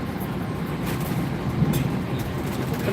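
Steady low rumble and rattle inside a moving Vande Bharat train carriage, a continuous broadband drone with faint clatter, no talking.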